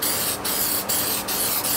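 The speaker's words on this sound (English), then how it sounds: "So right now I'm gonna put this copper spray in this gasket" Copper gasket spray hisses from an aerosol can in a continuous close spray, broken by a few brief pulses roughly every half second, on its own without talk.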